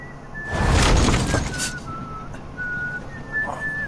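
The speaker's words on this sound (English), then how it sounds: "Please stop whistling." A cart driver whistles a thin, wavering tune in a Game of Thrones video game on PS4, heard faintly over a rushing noise burst and ambient outdoor sound.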